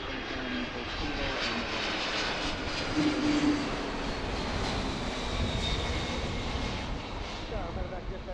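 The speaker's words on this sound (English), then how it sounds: "This is UPS from Louisville. Airbus A300. Should be a loud one." A UPS Airbus A300 jet flies over near Philadelphia airport, a loud, steady roar that swells around the middle and holds throughout, with faint talk beneath it.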